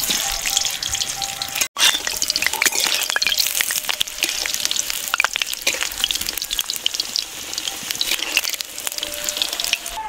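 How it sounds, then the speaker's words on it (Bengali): Cut potatoes fry in hot oil in a wok, giving a steady close crackling sizzle with small pops throughout and a brief gap early on, no voices. "আমি এগুলো আলুগুলো ভেজে নেব।"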